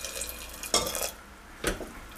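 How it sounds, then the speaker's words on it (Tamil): A spoon stirs rice porridge (kanji) in a pot after hot water goes in, two brief scraping swishes against the pot, close by. "சேர்த்துட்டு நல்லா மறுபடியும் கலந்து விட்டுறணும்."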